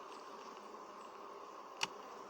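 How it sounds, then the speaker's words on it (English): Bees buzzing around a hive, a faint, steady hum of many insects with one brief sharp click partway through, quiet and continuous with no voices. "Look how nice these bees are."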